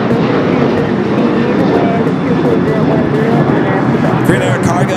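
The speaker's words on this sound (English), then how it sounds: "Green Air Cargo 777 freighter" A Boeing 777 freighter on approach to LAX roars overhead with a loud, sustained broadband engine rumble that stays strong throughout.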